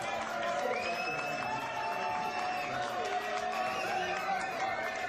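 A studio audience on a live regional TV food award show applauds and cheers, a busy crowd roar with clapping, while tonal sounds and voices run over it without letup.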